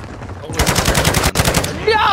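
A sentry turret in a video game fires a rapid, loud stream of machine-gun bursts, a brief break in the middle before the rattling gunfire resumes.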